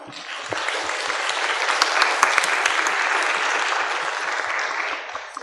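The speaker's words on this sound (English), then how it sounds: "We can just give them one more round of applause." A crowd applauds steadily for several seconds, a dense wash of clapping that swells slightly and then fades out.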